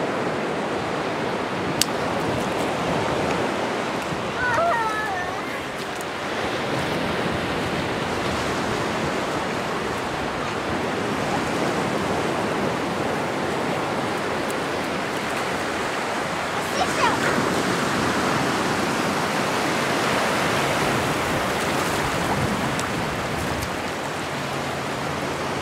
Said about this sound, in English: Ready to jump in those waves?